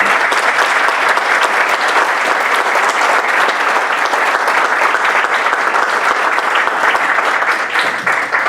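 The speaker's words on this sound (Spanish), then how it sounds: "Doctor Mario, lo recibimos con un fuerte aplauso." Steady, dense applause from a seated audience welcoming a speaker at a closing address, loud and continuous throughout with no voices over it.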